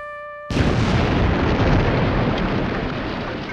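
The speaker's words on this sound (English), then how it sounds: "an explosion rocked the front end of the ship" Explosion aboard the battleship USS Maine: after a brief faint tone, a sudden loud blast erupts into a sustained roaring rumble that slowly decays, heard alone.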